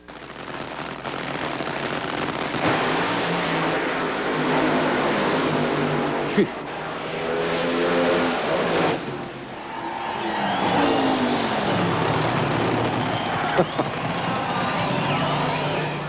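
Top Fuel dragster racing with Shirley Muldowney: a loud, sustained engine roar fills the whole stretch, swelling and shifting in pitch, with brief sharp cracks near the middle and end, no talking.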